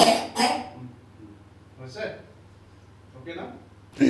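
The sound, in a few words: coughing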